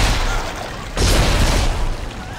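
Gunfire from the video game Dead Space 2, a weapon's loud sharp burst that cuts in about a second in and rings out over continuous noisy background.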